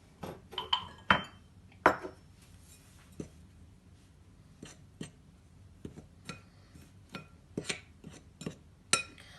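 Flour with salt, cumin and ghee is mixed in a bowl for samosa sheets, giving sparse, quiet clinks and taps of utensil against the bowl at an irregular pace, with no voices.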